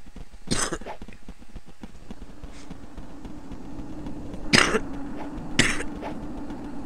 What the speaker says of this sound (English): Cough. Ugh.